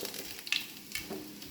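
Cumin seeds, bay leaf and cloves sizzling in hot oil for masala rice, a steady close crackling hiss with a few sharper spits and pops, quiet and alone.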